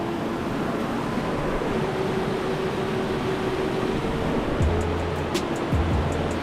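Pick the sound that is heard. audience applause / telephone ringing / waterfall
waterfall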